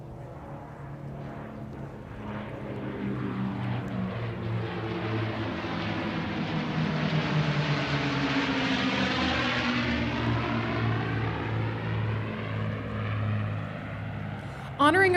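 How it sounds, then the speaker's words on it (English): Vintage propeller airplane performing a 4-point roll at the Toronto air show: a loud droning engine swells as it passes near overhead with Doppler-shifting whine, then recedes, while an announcer talks over it. "Cheryl Lynn back for a 4-point roll"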